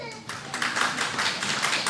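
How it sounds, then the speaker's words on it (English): Applause for the sisters in the audience at an Islamic community Q&A gathering, a quick burst of hand clapping that rises after a brief lull and keeps going steadily at moderate loudness. "Round of applause for the sisters."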